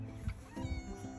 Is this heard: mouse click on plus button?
no